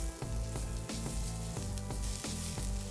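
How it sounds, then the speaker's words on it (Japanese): Onions sizzle and fry in leftover bacon fat in a pan, a steady close crackle broken by a few brief stirring pauses, with no talking. "そのベーコンを炒めた油が残っているところで玉ねぎを炒めていきます"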